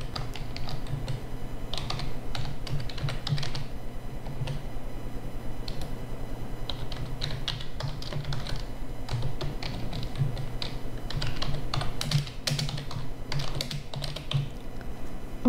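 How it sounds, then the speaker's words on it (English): Steady typing on a computer keyboard during Python programming, with bursts of close, crisp key clicks and brief pauses and no talking. "I'll type"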